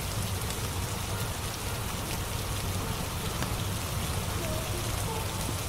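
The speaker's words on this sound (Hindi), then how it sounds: "बारिश अभी भी नहीं रुकी।" Rain falls steadily, a dense constant patter on surfaces that never lets up, with faint voices low in the background.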